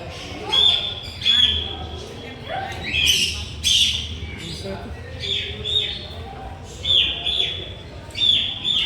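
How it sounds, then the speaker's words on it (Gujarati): Parrots chirp and squawk repeatedly, shrill calls coming in bursts every second or so, fairly close, with a low murmur in the background. "કલર કલરના પોપટ છે. હા મસ્ત છે પોપટ."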